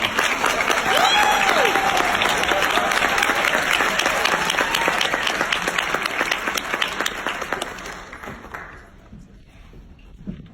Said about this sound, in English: So please give a huge round of applause to Blue Diamond for this evening